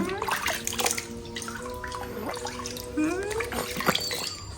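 Bath water sloshing and splashing while a child is bathed, steady close watery sounds with drips, and voices talking and babbling over it.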